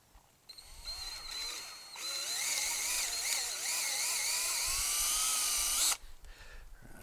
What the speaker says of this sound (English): I'll go back and I'll drill a pilot hole for this.